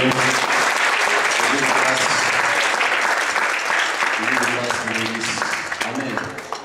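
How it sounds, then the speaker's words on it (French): A church congregation breaks into loud, sustained applause. Dense clapping fills the room with cheering voices mixed in, and it tapers off slightly toward the end. "Nous l'acclamons, nous acclamons le Seigneur."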